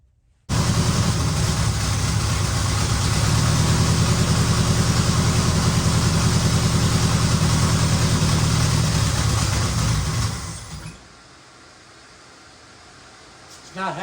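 A 1968 Chevelle V8 fitted with a rebuilt Edelbrock carburetor starts and runs loud and rough for about ten seconds, then drops off sharply to a much quieter, uneven idle.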